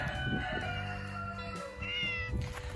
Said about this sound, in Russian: Это не мой кот, но он приходит сюда все время кушать.